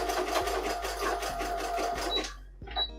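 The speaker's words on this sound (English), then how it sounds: "So now I'm gonna backstitch right now." A sewing machine backstitching along the hem of a fitted dress, a close mechanical whir with rapid stitching pulses that stops briefly, then a short final burst of stitching.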